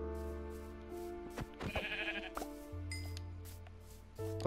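Sheep bleating in the Minecraft video game, a few distinct bleats standing out against steady background game music and ambience, with no talking.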